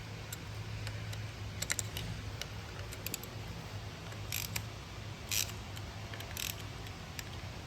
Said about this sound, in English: So we can loosen up these bolts just like this.